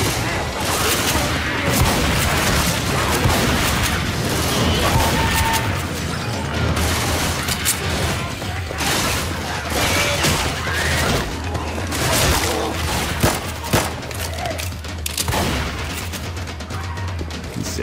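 Constant heavy gunfire from Left 4 Dead 2, dense overlapping bursts and booming shots firing almost nonstop at close range for the whole stretch, with faint voices buried underneath.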